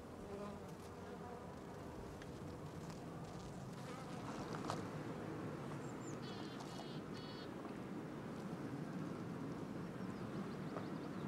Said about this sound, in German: Damit ermöglicht er den Bienen, an ihrem neuen Standort sofort auf erste Orientierungsflüge zu gehen.